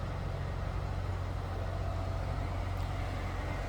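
A 1990 Ford Thunderbird Super Coupe engine idles through its stock exhaust, a steady low rumble that holds an even level throughout with no speech over it.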